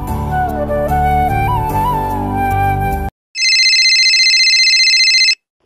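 Telephone ringing for an incoming caller on a radio phone-in show, a loud electronic ringtone in repeated tones that starts right after background music cuts off and then stops abruptly.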